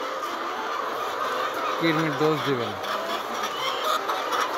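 Layer hens cluck in a short run of rising, stacked calls near the middle, over a steady farmyard hiss with a voice speaking nearby.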